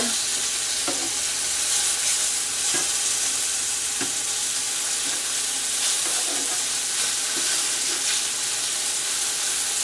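Chicken fries in a pan with a steady, close sizzle and crackle throughout, broken by occasional soft clicks and stirring sounds.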